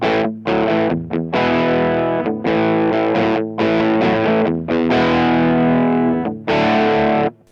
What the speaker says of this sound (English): Let's try the bridge pickup with a bit more dirt